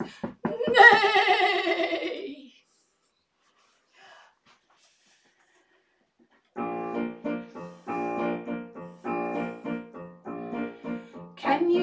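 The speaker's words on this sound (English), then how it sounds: "Make a sound like this. Neigh." A horse's loud whinny rings out at the start, falling in pitch, then after a pause rhythmic harmonic tones play in short repeated bursts, like a children's song.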